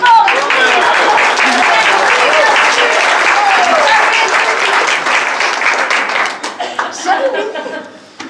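Loud applause and clapping from a café-theatre audience at a holiday club show, steady for several seconds with some voices and laughter mixed in, then thinning and fading out toward the end.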